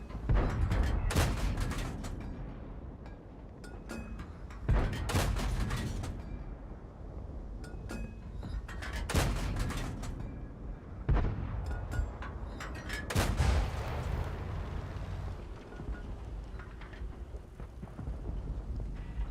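Tank cannon shots in the World of Tanks style E100 tech tree game: heavy booming blasts roughly every few seconds over nearly twenty seconds, each with a sharp crack and a rumbling tail, with engine and battle noise between.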